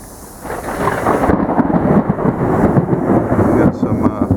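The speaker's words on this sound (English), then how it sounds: "We got some thunder going on here." Loud thunder rolls outdoors after a quiet start, swelling into a long, deep rumble that lasts for several seconds with a steady hiss of wind or rain.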